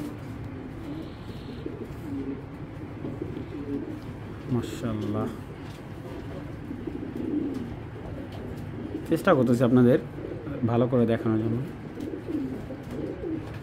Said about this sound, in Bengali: দেখেন হোয়াইট রেসার একটা নর ভাই, এই দেখেন কবুতরটা এত সুন্দর,